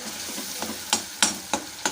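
A spoon stirs curry leaf paste frying in sesame oil, scraping the pan in five quick, evenly spaced strokes over a soft, continuous sizzle, close up with no talking.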